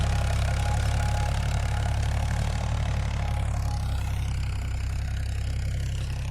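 A tractor engine drones steadily and loudly at a low pitch while ploughing a field with a three-bladed plough, a continuous rough chugging that stays close throughout, with no talking.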